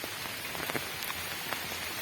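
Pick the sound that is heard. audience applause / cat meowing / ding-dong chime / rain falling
rain falling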